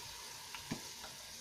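Lamb meat sears in a pan with a steady, faint sizzle across the whole moment, a couple of soft clicks from a utensil breaking through near the middle.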